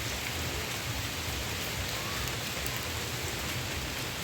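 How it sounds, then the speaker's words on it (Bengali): Steady rain pours down in a dense, even hiss with no breaks, close and fairly loud, and nobody speaks. "বৃষ্টি থামে না"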